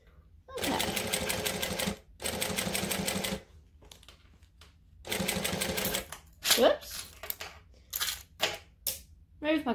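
A sewing machine stitches through fabric, including a thick section, in several loud bursts of rapid mechanical chatter separated by pauses, with brief clicks and handling noises in between.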